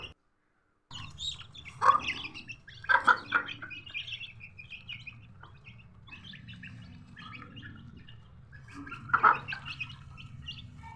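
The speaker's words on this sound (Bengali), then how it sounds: "এই যে টাইগার মুরগিগুলোকে আমি খাবার দিয়ে নিলাম।" Tiger chickens fed in a small flock, giving sharp chirping calls in a few separate bursts over a steady low rumble, with quieter cheeps scattered between them.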